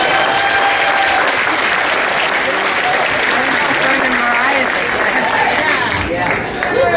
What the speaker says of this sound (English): if you guys would make a nice round of applause for Richard Ralston.